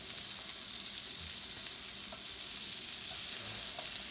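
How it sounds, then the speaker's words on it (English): Onions fry in melted butter in a pan for a patty melt, a close, steady sizzling hiss that swells slightly toward the end. "Okay, your butter's melted. Now we're going to add all of our onions."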